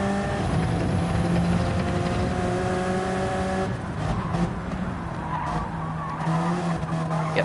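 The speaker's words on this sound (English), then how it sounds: "a slide through the corner from Otto" A race car slides through a corner with tyres squealing in long, loud skids over its engine note, which changes pitch midway as it downshifts.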